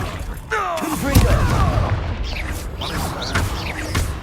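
A Confringo blasting spell explodes in Hogwarts Legacy with a booming burst, followed by crackling magical whooshes and a few lighter impacts amid ongoing game sounds.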